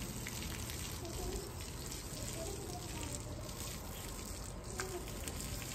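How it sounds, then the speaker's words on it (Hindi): Water poured out by hand to wet the ground in a village yard, a steady close splashing and gushing that runs unbroken throughout, with faint insect buzz and birds mixed in. "बस मैं पानी लगा रही हूँ ना"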